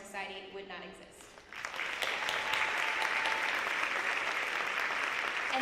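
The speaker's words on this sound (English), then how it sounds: "please give another round of applause to my amazing leadership team" Audience applause at a senior honor night, a steady wash of clapping that rises after a spoken introduction and carries on loud and even to the end.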